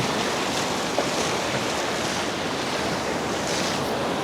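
Ocean surf crashes continuously on a Florida beach in St. Augustine, a dense, loud wash of breaking waves with some wind buffeting, and no voices.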